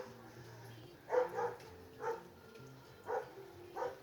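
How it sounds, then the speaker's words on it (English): A dog barks in four short bursts spaced over a few seconds, moderately near, against the low hum and background noise of an outdoor deck where pressure washing is going on. "there's Rocky being a pest, barking"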